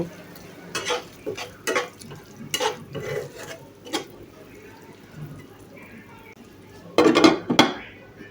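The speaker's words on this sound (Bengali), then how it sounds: "আগে থেকেই যে ট্যাংরা মাছগুলি ধুয়ে রেখেছিলাম সেই মাছগুলি তো মাছগুলি দিয়ে একটু মশলার সাথে নেড়ে ছিঁড়ে মিশিয়ে কিছুক্ষণ কষিয়ে নেব" Tangra fish is stirred with spices in a pan, heard as intermittent metal scrapes and clinks of a spatula against cookware over a faint background sizzle, with a louder burst of scraping near the end.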